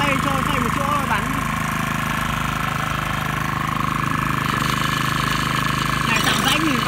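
A Shibaura KF552 Japanese walk-behind tiller runs steadily while tilling in place, its engine drone loud and continuous with rough mechanical chatter throughout, briefly swelling near the end.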